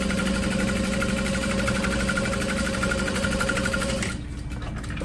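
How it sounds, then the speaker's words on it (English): Sewing machine top-stitching folded vinyl down onto lining fabric for a crossbody bag's slip pocket, a steady close mechanical whir with rapid needle rhythm that drops off sharply near the end. "I'm going to fold the vinyl down, and I'm going to top stitch on the lining fabric."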